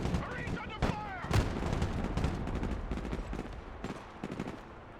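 Gunfire and artillery-style blasts ring out across a battlefield in the strategy game Broken Arrow as Marines come under fire, with repeated loud bursts and booms over a dense din of combat noise.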